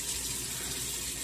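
Tap water runs steadily onto a sheet of dissolvable travel soap, a continuous close splashing flow with no voices.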